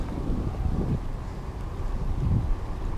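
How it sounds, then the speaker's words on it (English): Heavy wind buffets the microphone beside a pond while bass fishing from the bank, a steady low roaring rumble with gusty swells throughout and no speech. "Sorry about the wind noise, guys."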